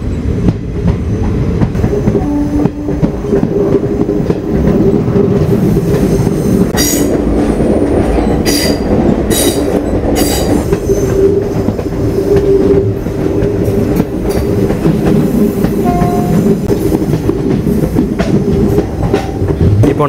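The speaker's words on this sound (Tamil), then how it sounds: "அந்த வண்டி கிளம்புதுங்க, மதுரை குருவாயூர்." Madurai-Guruvayur express train departing, heard from a moving train in Kerala, a loud continuous rumble of rail wheels with metallic squeals and clicking joints throughout.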